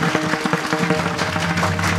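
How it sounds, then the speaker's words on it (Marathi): Audience clapping at a kirtan devotional gathering: a dense, steady wash of many hands applauding throughout, with sustained musical tones beneath. "टाळ्या वाजवा बाबांसाठी."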